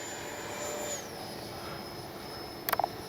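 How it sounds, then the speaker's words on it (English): A Freewing Banshee RC jet performs a touch and go, its steady high-pitched turbine whine holding at moderate volume and dropping slightly in pitch partway through, with a few brief faint clicks near the end. "Which touch and go is a great way to practice your landing."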